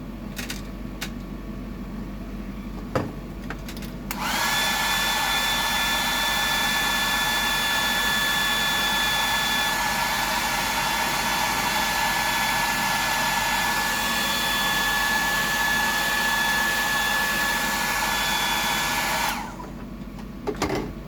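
A hair dryer blowing on a freshly painted fishing lure, switching on to a loud, steady whirring roar with a whining tone that holds for about fifteen seconds before cutting off, no talking.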